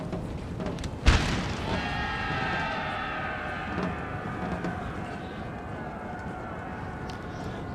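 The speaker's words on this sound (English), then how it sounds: "Get the cannons to engage them." A single loud cannon boom from Napoleon Total War artillery, followed by a fading rumble and a sustained battlefield din with tonal hum and distant crowd noise.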